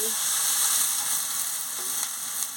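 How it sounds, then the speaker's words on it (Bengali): Fried lentils in a hot pan as water goes in, a dense, steady sizzle and hiss that holds through the short stretch with a couple of small pops, close and fairly loud, with no voices. "ডালগুলো ভাজা হয়ে গেছে, আমি জলটা পরিমাণ মতন জলটা দিয়ে দিচ্ছি"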